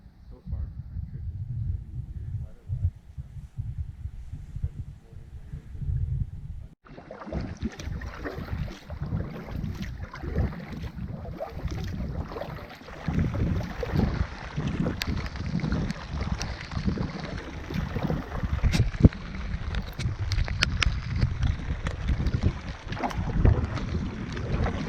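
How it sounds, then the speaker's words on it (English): Canoe paddled on a river in Algonquin on a wild-weather Labour Day weekend: rhythmic paddle strokes and water swishes up close, with gusty wind noise buffeting the microphone and a voice speaking over it. "Still paddling towards the portage to Burnt Root."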